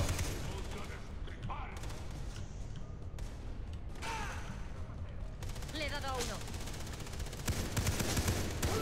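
Far Cry 3 gunfire in a bunker: bursts of shots and rapid automatic fire crackle through dense game noise, mixed with thuds, while players talk over the action.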